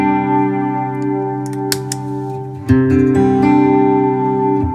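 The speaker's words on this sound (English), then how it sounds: "have reverb and chorus all in one" Electric guitar played through a mini pedal set for reverb and chorus, sustained shimmering notes that ring out, then a fresh strummed chord swells in and lingers, loud and close with no talking.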